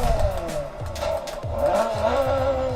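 A Honda Prelude with an H23 engine swap revs nearby, its exhaust giving off repeated sharp pops and crackles over a rough, fluctuating engine drone.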